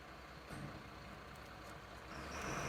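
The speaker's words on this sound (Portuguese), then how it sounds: "no fundo vai ter o caminhão fazendo o barulho dele" A garbage truck passes outside on collection day, a steady low rumble of engine and road noise in the background that swells slightly toward the end, with no talking.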